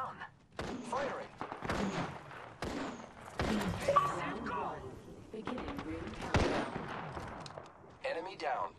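Weapons fire in Apex Legends with Gibraltar in a squad fight, bursts of sharp shots spread through the clip among game sounds and voices, moderately loud and continuous.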